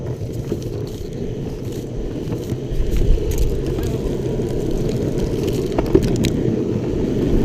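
A MEEPO electric skateboard climbs a slope, its wheels rumbling low and steady over the pavement with a faint motor whine, growing slightly louder partway through.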